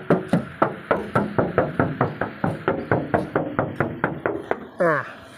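Knuckles rap steadily on the metal body of an Isuzu Buddy pickup, about twenty evenly spaced hollow knocks close up, ending with a brief scraping sound.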